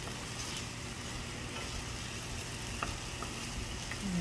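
Sautéed bitter melon in a pan, a soft, even frying hiss with faint occasional stirring scrapes, quiet and steady throughout with no voices.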